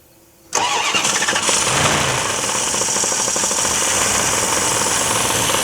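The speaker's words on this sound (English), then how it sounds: "Let's go ahead and crank this thing up, see if it starts." A Dodge D100 farm-find truck engine cranks briefly after a quiet start, then catches and runs loudly with a steady, rough, rattling roar, close by, with no talk.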